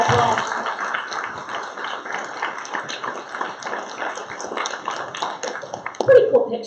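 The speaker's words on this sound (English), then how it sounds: "Let's give him, first of all, a big round of applause." A round of applause from attendees at a school board meeting, a moderate, fairly even patter of clapping hands that tapers off near the end as a voice begins speaking.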